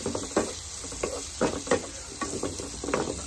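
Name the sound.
ginger garlic paste sizzling while sautéed with fish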